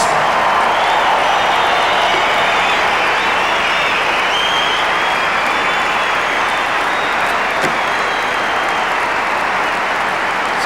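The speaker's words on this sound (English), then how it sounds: "So Sampras deservedly lapping up this applause." Sustained crowd applause in a tennis arena for the champion after the 1997 ATP Tour World Championships final, steady, dense clapping throughout, alone without talk.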